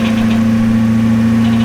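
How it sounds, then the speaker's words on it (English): A BMW E34 540i V8 idles close by with a steady low hum and a fast, light ticking from the valve lifters riding on top, no voices. "old-fashioned lifter tick"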